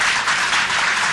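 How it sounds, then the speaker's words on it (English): Audience applause at a city planning commission meeting, a brief dense burst of many hands clapping, loud and steady with no voices over it. "Please hold your applause until we get finished here."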